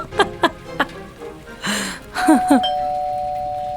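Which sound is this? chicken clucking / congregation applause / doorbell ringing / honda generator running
doorbell ringing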